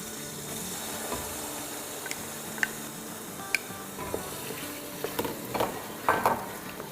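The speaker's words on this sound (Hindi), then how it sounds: "बस दही के साथ भी 2-3 मिनट भून लेंगे।" Masala sizzling and being stirred in a pan after a cup of yogurt is added, a steady close frying hiss with occasional spoon scrapes and light clinks against the pot.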